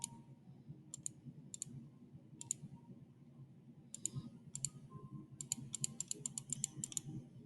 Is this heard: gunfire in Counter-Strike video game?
no